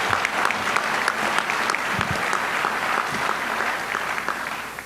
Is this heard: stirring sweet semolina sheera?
no